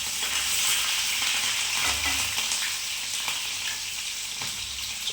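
Green chillies sizzle in hot oil with cumin in a pan, a continuous bright crackling hiss with occasional stirring scrapes, close and steady, no talking.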